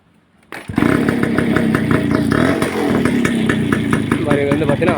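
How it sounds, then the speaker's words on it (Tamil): A TVS 50 moped fitted with an RX-style silencer starts up and runs loudly with a rough, rapid, popping exhaust note, revving slightly while voices talk in the background. "RX பைக் மாதிரி சத்தம் வரும்"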